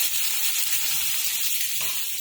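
Tempering of cinnamon, star anise, asafoetida and green garlic sizzling in hot oil for kadhi, a loud steady hiss with no talk throughout.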